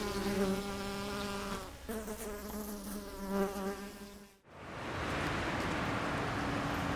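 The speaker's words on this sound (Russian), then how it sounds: "Это уже второй рой покидает пасеку." A dense, droning buzz of a bee swarm leaving an apiary hums steadily for several seconds, then gives way abruptly to a broad hissing wash.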